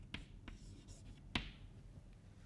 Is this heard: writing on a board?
yes